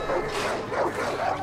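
In the video game Far Cry 5, dogs bark and yip in quick succession, fairly loud and close, layered over dense background game noise.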